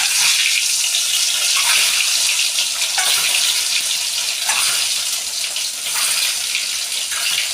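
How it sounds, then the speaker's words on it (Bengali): Eggs fry in mustard oil in a wok with a loud, steady crackling sizzle, swelling in bursts every second or so, likely as the eggs are turned, alone without speech. "তেলটা হয়ে গেছে, এবার আমি ডিমগুলো ভালো করে ভেজে নেব।"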